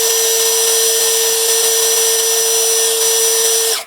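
A KEELAT 3-in-1 impact drill runs steadily at variable speed 1, a loud, constant high-pitched motor whine with a strong tonal hum that holds unbroken for nearly four seconds before cutting off abruptly.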